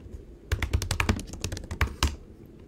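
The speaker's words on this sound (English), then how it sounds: "Whoops, I can't type today." Burst of quick, irregular keystrokes on a computer keyboard, close and crisp, with a few louder taps near the end and no talk.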